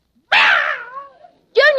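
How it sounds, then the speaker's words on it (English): A cat yowls loudly as its tail is pulled in an old radio comedy scene, a long wailing cry that trails off, followed by a second short yowl. "Junior, stop pulling that cat's tail."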